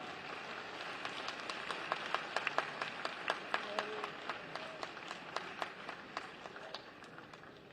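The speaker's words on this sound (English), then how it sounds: "May we have a huge round of applause for sir." Audience applause at an international conference of chief justices in Lucknow, a steady wash of clapping with distinct individual claps standing out, moderately distant and sustained throughout.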